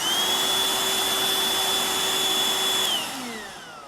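A vacuum cleaner motor whines steadily and loudly at close range, holding one pitch for about three seconds before winding down as it is switched off.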